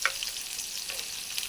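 Cumin seeds dropped into hot oil with curry leaves for a rice tempering crackle and sizzle in a close, steady hiss with a few sharp pops, heard alone and briefly.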